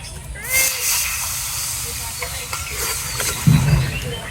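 Coriander powder mixed with water hits a hot pan on a new stove, giving a steady close hiss and sizzle with a louder spit near the end.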